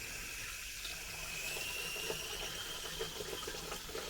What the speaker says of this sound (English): So just get garden hose down the coolant fill.